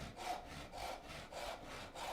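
A hand saw cuts through wood for a mitered half lap joint, with close, rhythmic rasping push-and-pull strokes at about four per two seconds and no talking.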